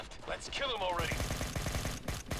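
Gunfire from the mobile FPS game The Origin Mission: a rapid burst of repeated shots with reverberant tails, following an earlier swooping effect, with a few louder single cracks toward the end.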